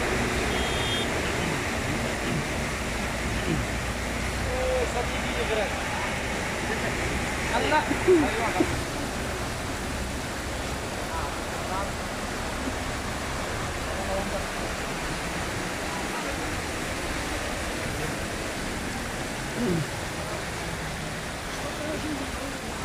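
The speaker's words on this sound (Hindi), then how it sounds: "देखे रोड में पानी कैसे है, ये दुकानों के अंदर पानी जा रहा है" Heavy rain floodwater rushes along a road in Makkah, a steady loud wash of flowing water and splashing that runs unbroken throughout.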